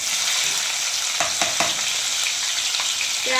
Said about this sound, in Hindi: यहाँ डालेंगे हम 1 चम्मच भरकर चॉप करा हुआ लहसुन